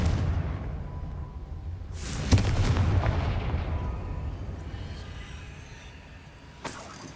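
A fiery blasting-spell explosion in the Hogwarts Legacy video game goes off once as a loud, sudden boom. A rumbling decay follows, and a smaller burst comes near the end.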